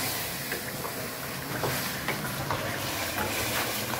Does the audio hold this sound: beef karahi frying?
yes